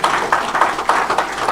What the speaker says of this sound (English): I thought you applaud for that.